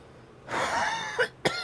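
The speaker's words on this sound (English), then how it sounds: "At the rate I'm coughing, if I don't start coughing up blood, I'll be amazed." A person with a heavy cold lets out a harsh, rasping cough followed by two short, sharp coughs, close and alone.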